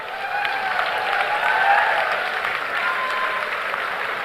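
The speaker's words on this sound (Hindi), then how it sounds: "बाकी लोग इनके लिए जोरदार तालियों से इनका अभिनंदन करें।" Steady, sustained applause from a large audience at a company anniversary event, dense and even throughout with no pauses.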